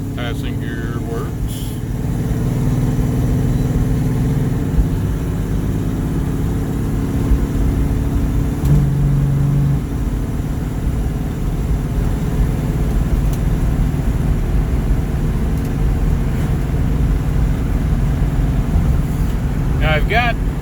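A Mustang with a C4 3-speed automatic drives on a main road, its engine humming steadily under road noise while someone talks over it for most of the stretch.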